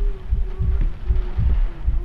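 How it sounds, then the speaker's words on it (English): Heartbeat in the horror game Layers of Fear, a slow, deep, muffled thumping pulse repeating about every half second over a low steady hum, close and prominent with no talking. "I hear the heartbeat."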